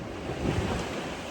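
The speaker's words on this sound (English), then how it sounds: "Very strong, maybe 18 knots of wind right now." Strong wind of about 18 knots and breaking waves on a sailboat crossing from Tunisia to Sardinia, a steady, loud rush of wind and surf buffeting the microphone, with no talk.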